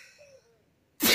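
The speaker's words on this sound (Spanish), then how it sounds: "Voy a estornudar, típico." A single sudden, loud sneeze bursts in at the end after a quiet stretch with faint background tones.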